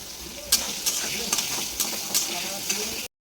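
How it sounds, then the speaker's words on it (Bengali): Potatoes fry in hot oil with whole spices, giving a steady sizzle broken by periodic sharp scrapes and stirs of a spatula in the pan, close up and with no talking. "আলুগুলো দিয়ে দিচ্ছি তেলে"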